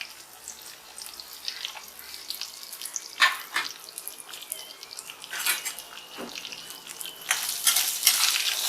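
Fennel seeds, cumin, black pepper, onion, garlic and ginger stirred and sautéed together in a pan for a mutton chops pepper masala, with soft sizzling and scraping of a spoon, plus scattered brighter clatters and splashy bursts.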